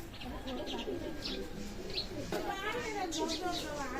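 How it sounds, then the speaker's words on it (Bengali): Royal Teddy pigeons coo softly in a loft, with a few chirps mixed in. A voice talks over the birds at a fairly low level. "রয়্যাল টেডি আছে কবুতর"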